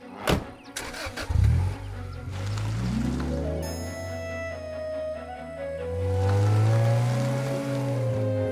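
A cartoon car starts up with a few sharp mechanical clicks and bangs, then its engine revs and whines upward as it pulls away, the sound rising and falling in pitch over several seconds.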